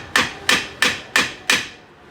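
Five sharp metallic hammer strikes ring out at an even rhythm against the lug studs of a rear hub assembly being removed from a GM Enclave, Traverse or Acadia, loud and close with no talk.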